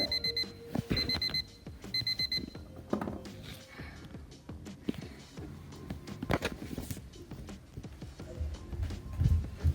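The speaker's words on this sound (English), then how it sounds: "it's coming from Cyan's bedroom. I can't believe Cyan's alarm clock is" In a bedroom at night, an alarm clock rings with short bursts of high electronic beeps early on, followed by rustling, shuffling and footsteps as someone stirs nearby.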